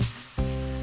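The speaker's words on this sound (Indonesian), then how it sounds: "Kemudian masukkan tahu. Kemudian aduk yang rata." Tofu is added to a frying pan with egg, and a loud, steady sizzle surges as it hits the hot oil and is stirred, close and continuous.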